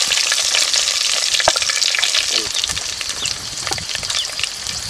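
Mustard seeds, curry leaves and grated coconut crackle and sizzle in hot oil in a pan, a steady dense frying hiss with sharp popping spatters throughout, close and fairly loud, no talking.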